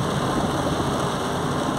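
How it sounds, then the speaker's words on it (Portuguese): Very heavy rain pours down on the town of Lapão in Bahia, a dense, loud, unbroken hiss of falling water with no pauses. "Olha aqui, chuvada muito forte aqui"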